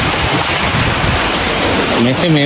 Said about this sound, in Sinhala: මේ හොඳම වතුර පාරක් මේ යන්නේ මෙතනින් එහාට